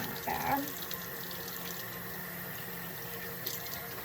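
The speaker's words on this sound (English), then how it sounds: "But I'm just gonna add water." Warm water runs from a tap into a container as it is added to slime, a steady close gushing stream with a brief louder splash at the start and no talking.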